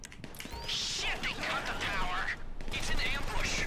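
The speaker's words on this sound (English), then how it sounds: "This is a Rambo gun." Rapid machine-gun fire in a shooting video game, a dense continuous burst of gunshots with mechanical rattling, loud and close throughout.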